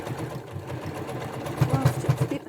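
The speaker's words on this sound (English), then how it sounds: "whilst it's a bit harder because you can't see what's happening in the sewing machine" A sewing machine stitching fabric, its needle chattering in a fast steady rhythm that grows louder with distinct pulsing bursts near the end, close by and without speech.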